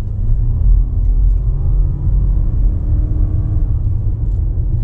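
A 2020 Honda CR-V Hybrid accelerating hard in normal drive mode, a steady low engine rumble and road drone heard from inside the cabin, continuous and fairly loud throughout.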